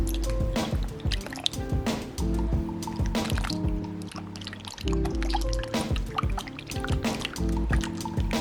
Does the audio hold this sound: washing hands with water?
yes